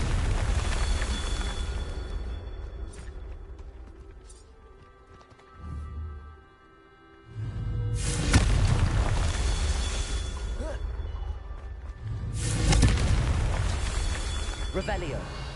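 Spell explosions from a wizarding video game, cast as Confringo on a PS5, erupt in two heavy, rumbling booms several seconds apart, loud and close over continuous game ambience, with a voice speaking briefly.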